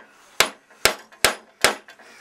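A mallet strikes a chisel chopping a single dovetail in wood: four sharp, evenly spaced knocks, each followed by a short ringing decay, close and loud with quiet gaps between.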